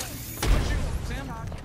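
Gunfire in a multiplayer shooter video game, a sharp burst of shots layered over players' excited voice chat, short and close.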